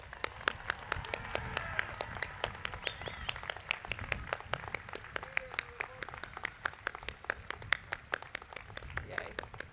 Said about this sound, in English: One last round of applause for these wonderful graduates.